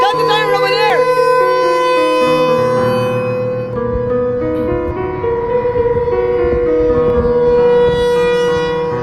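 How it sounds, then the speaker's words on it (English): A civil defense tornado siren in Des Moines, Iowa, wails loud and steady, rising and falling across the whole stretch, with voices speaking near the microphone. "That's the siren over there."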